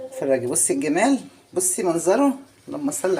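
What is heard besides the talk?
None of the usual background noises is heard.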